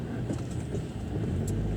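Town traffic in Lansdown, with a steady wash of cars passing close by and a constant low road rumble throughout, heard from a moving car with no talk.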